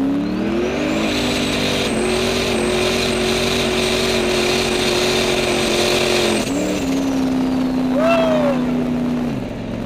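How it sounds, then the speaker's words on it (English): A car cruising at about 20 miles an hour on a street gives a steady loud engine drone with shifting pitch and a brief dip partway through, alone without talk. "Driving about 20 miles an hour."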